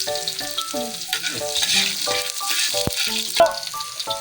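Garlic hits hot oil in a pan, giving a loud, steady close sizzle and crackle, with stirring scrapes and a few utensil clinks on top and no talk.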